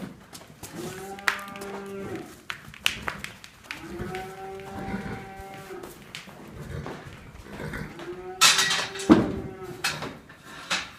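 A cow on a farm, about to be milked by hand, gives three long, loud moos spaced a few seconds apart, with soft shuffling and background noise between calls.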